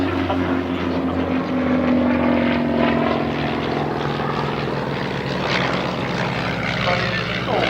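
Propeller aircraft flying at the Shuttleworth Heritage Air Show, a loud, steady engine drone with a slowly shifting pitch throughout, no talk in the clip.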